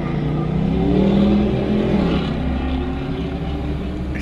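A loud truck doing a burnout and accelerating hard from a traffic light, its engine roaring steadily and rising in a deep, sustained rumble that swells near the middle and stays strong throughout, with no talking.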